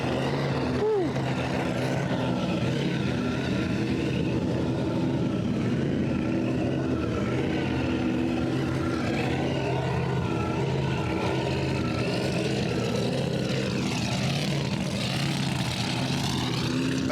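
A blown V8 muscle car engine at a car show roars loudly and steadily from close by, a dense continuous drone that fills the whole stretch.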